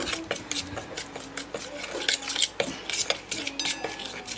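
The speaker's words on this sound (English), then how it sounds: "I'm just going to mix it all together." A utensil stirs marinade into raw beef steaks in a bowl, making a steady run of close clinks and scrapes against the dish with soft, wet mixing sounds in between.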